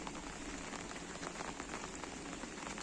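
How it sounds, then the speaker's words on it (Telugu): Moderate rain that has fallen since morning keeps up a constant, uniform patter and hiss of drops hitting surfaces, close and unbroken, with no voices. "ఉదయం నుండి ఇప్పుడు దాకా అలానే పడుతూనే ఉందన్నమాట."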